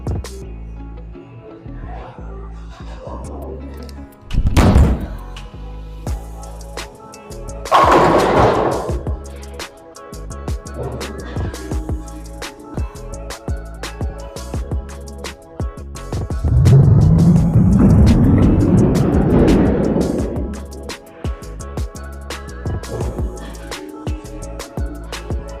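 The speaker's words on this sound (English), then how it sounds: "First shot, backup ball, one step." A 16-pound bowling ball thrown with a one-step approach rolls down the lane with a building rumble and crashes into the pins, following an earlier sharp thump and clatter; the setting is an echoing alley with background noise.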